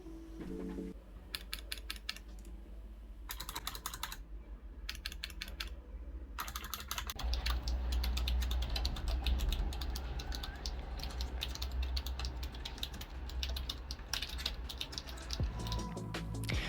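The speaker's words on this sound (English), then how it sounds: "how the actual typing sound on a keyboard sounds like." Fast continuous typing on the optical mechanical keyboard of an ASUS ROG Strix Scar 15 gaming laptop, crisp close keystrokes clattering in dense runs with a few short pauses, no voices.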